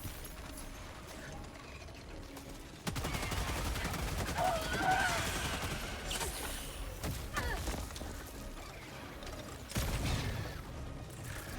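In the video game Helldivers 2, a sentry turret opens fire in sustained rapid bursts after a quieter opening. Overlapping gunfire and mechanical clatter fill the rest of the clip, with a voice talking over the game sound.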